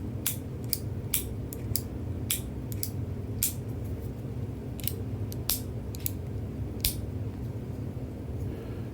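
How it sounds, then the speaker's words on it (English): A bronze switch on a Tactile Turn titanium pen clicks about fifteen times in an irregular rhythm. Each click is sharp, close and bright against a steady low background hum. "What do you think about the new switch click here?"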